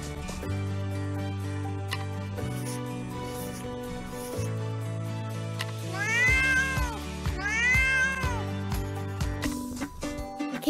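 A cartoon cat in a children's animal-drawing learning game meows twice in quick succession, rising and falling, over bright, steady background music.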